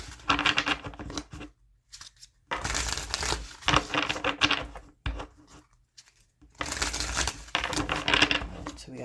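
Tarot cards being shuffled in three quick riffling bursts separated by short silences, close and crisp.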